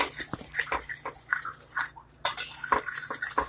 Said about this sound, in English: That's why you continuously stir.